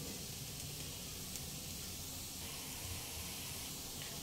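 Dry fruits fry on a medium flame in a pan of carrot halwa, giving a steady, even sizzle and hiss that runs unbroken from start to finish with no voices.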